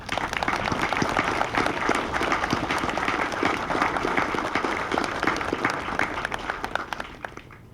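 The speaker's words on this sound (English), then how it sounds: "let's give them all a round of applause" Steady applause from a crowd at an 82nd Airborne Division military retirement ceremony on an outdoor parade field, dense clapping holding for several seconds before tapering off at the end.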